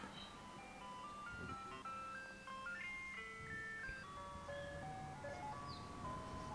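A melodic ice cream truck jingle plays in a video game, its tune wandering and slightly off-key over a low steady background hum.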